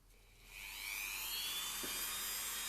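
A high-pitched rotary tool with a sanding bit spins up and whines steadily while shaping EVA foam, its shrill tone rising then holding, close by and loud.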